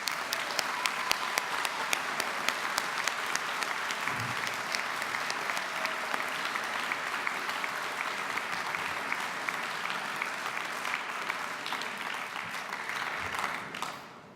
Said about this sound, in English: let's give them a tumultuous round of applause